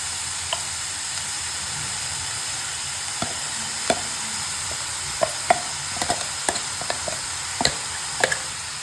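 Shredded cabbage and grated coconut frying in a pan with salt and chili powder, a steady soft sizzle with scattered sharp clicks of a spoon stirring and scraping against the pan.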